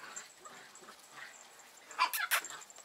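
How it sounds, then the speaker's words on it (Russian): Puppies playing outdoors in the Argentine town of Villa General Belgrano give a couple of quick, high yips and whimpers close together near the end, over faint street ambience. "Щеночки играют."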